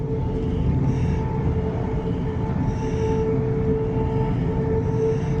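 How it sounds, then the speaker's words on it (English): A freight train rumbles steadily over railway points near a Coventry freight terminal, its deep continuous roll overlaid with a faint periodic squeal of wheels, close and loud throughout. "We're rocking and rolling over the points"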